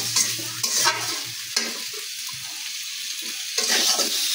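Tomatoes sizzle and fry in a pan of spiced masala for a chital fish curry, stirred with repeated scraping strokes in bursts; close and steady, with no talk.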